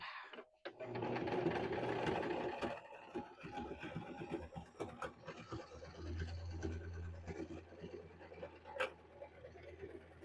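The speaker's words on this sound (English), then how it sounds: "I'm going to back stitch over that handle just because I wanted extra." A sewing machine back stitches over the handle of a zippered wristlet made from a dish drying mat, running in a steady rapid whir that stops and restarts, close and fairly quiet, with no talking.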